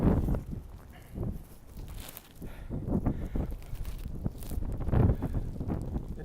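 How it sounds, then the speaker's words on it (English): Gusty wind buffets the microphone atop the Tinker Cliffs on the Appalachian Trail in Virginia, rumbling in uneven low surges that swell and ease throughout, with no talk. "I apologize for the wind"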